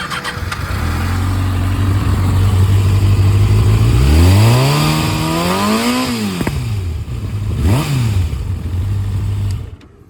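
A 2015 Kawasaki Ninja 636 sport bike idles loud and close, then revs up in a rising and falling sweep, drops back, gives a second shorter blip, and settles to idle before cutting off at the end.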